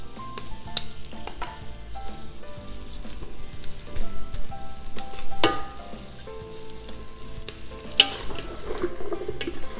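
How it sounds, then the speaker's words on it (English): Potatoes and garlic stirred in butter in a pot for a creamy corn and broccoli chowder, giving a gentle sizzle with irregular scraping and clinking of the spoon against the pot, close and moderate in level, with quiet music underneath. "mix those in there so that they get coated with butter"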